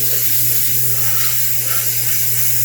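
Spray painting a 1/4 scale Samurai Wolverine figure at a workbench, a loud, close, continuous aerosol hiss held steadily for the whole stretch.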